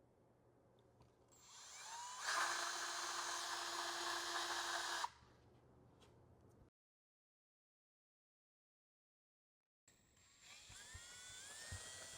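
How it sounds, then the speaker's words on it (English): A power drill whines steadily as it bores a hole through a painting frame, a high sustained buzz for a few seconds, then quiet, then the drill starts again; no talking. "then I'll drill a hole through it first and then go for it"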